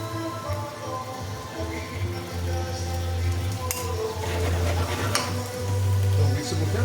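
Pork ribs sautéing in a pan for ginisang baboy, a continuous close sizzle with occasional stirring clinks of utensil on metal, no talk over it.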